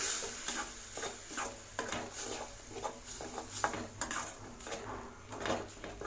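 Masala powder being stirred in a pan on a low flame for an egg gravy, a steady run of soft scraping taps and clinks from the spoon at a quiet level.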